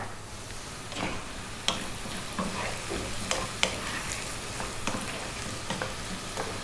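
Potatoes fry in oil with turmeric and chili powder being stirred in, giving a steady close sizzle with scattered spoon scrapes and clicks and no talk.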